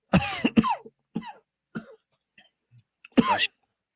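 A person coughs several times in short, separate bursts with quiet gaps between, close and fairly loud.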